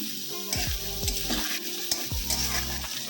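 Onions fry in a pan for chicken biryani with a bright, steady sizzle. Close scraping stir strokes and low knocks from the pan come at roughly half-second intervals, with no talking.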